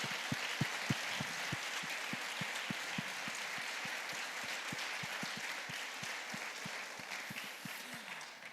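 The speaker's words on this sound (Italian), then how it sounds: "voglio chiedere a tutti voi anche un applauso per Cristina e Lisa, a tutti i tutor che seguono questi ragazzi" Steady applause from an audience honoring tutors Cristina and Lisa at a school event on students' academic recovery, dense continuous clapping throughout with sharp individual claps standing out near the front.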